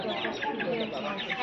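Chicken-like clucking from a rooster wandering and pecking at a rural shrine in Giridih, Jharkhand, continuous and close, mixed with background voices.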